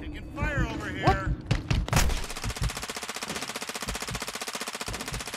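Gunfire in Call of Duty MW2: a few scattered shots, then a rapid, steady burst of automatic fire that repeats loudly for several seconds, with game voices and chatter near the start.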